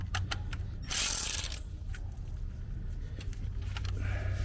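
A 13 mm ratchet wrench tightens a bolt on a Tesla's rear suspension, with rapid clicking pawl bursts and metallic clinks, a louder rattling stretch early, then further intermittent clicks over a low background hum.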